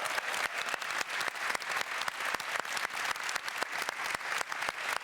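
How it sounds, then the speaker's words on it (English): An audience at The International 2019 Dota 2 event applauds in a steady wash of clapping, with sharp individual claps standing out, heard at moderate distance and without talk. "can we get a round of applause for Anna?"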